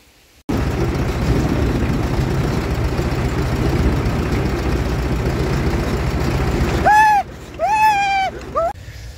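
A harvesting machine mows a corn field, its loud, steady engine roar and mechanical drone filling the scene before a few tonal whines and squeals break through near the end.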